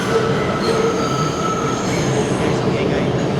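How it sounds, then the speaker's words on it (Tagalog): A New York subway 5 express train bound for Bowling Green runs at speed, a loud steady rumble with metallic wheel squeal and whine riding on top, heard from inside the car. "This is a Bowling Green bound 5 express train"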